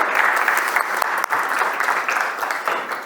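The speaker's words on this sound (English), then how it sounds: "So, round of applause." A room of staff, students and families at a teacher academy closing ceremony claps steadily, a loud, dense, continuous wash of hands with a few sharper claps near the front.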